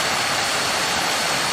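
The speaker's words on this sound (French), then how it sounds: "Dans l'eau de la cascade." Waterfall on Koh Kood island, a steady, dense broadband roar of falling water that stays constant and close with no voices.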